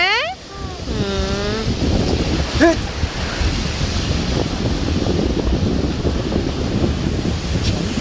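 Wind buffets the microphone over a steady wash of surf at a green-water seashore, continuous and fairly loud, with a voice and a brief whistle-like sweep near the start.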